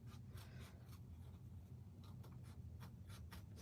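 Scissors snipping through fabric for holiday quilt blocks, a steady series of soft rubbing, rasping cuts made slowly and carefully, close up over a low background hum.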